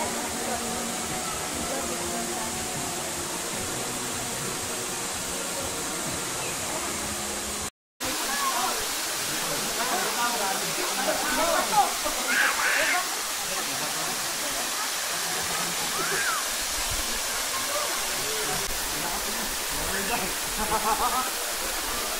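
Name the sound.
Batlag Falls waterfall rushing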